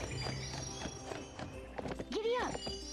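Horse hooves clip-clopping at a gallop in the video game Barbie: Wild Horse Rescue, with repeated quick hoof beats and a brief whinny-like call, heard under a person talking.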